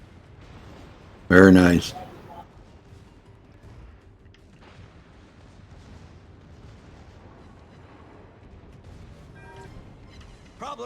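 Battleship guns in the naval combat game World of Warships, with citadel hits: one sharp, loud salvo blast booms near the start, then a low rumbling background and faint distant pops follow while a voice speaks briefly.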